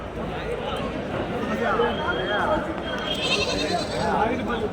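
Several goats bleat on and off amid a busy goat market in Kadiri, with people talking and a crowd murmuring in the background.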